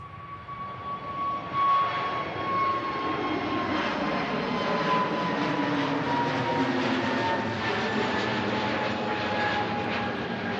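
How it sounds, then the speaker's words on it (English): An Airbus A320neo jet departs Manchester Airport in a long, steady engine roar with a whining tone, swelling early and staying loud and continuous throughout. "There goes the A320neo"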